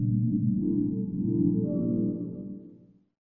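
Muffled, low-pitched cutscene sound from the video game The Quiet Man, a dull murmur with no clear detail that swells briefly and then fades out after about three seconds.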